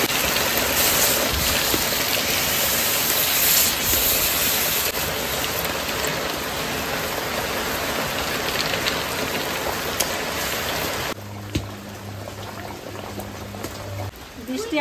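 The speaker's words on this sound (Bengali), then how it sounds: "বৃষ্টি আর এক দফা হয়ে গেল" Heavy rain pours steadily as a dense, loud hiss that fills most of the stretch, then eases to a softer patter with a low hum near the end.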